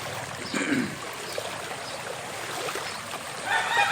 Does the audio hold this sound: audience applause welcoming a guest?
no